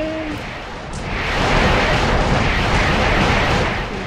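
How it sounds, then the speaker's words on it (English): A missile blast in the Kick the Buddy video game, a loud roaring explosion that swells after a brief whoosh and keeps rumbling densely to the end. "Alright, here comes the missile."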